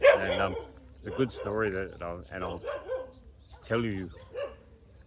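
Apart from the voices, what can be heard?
dog barking at a dog rescue place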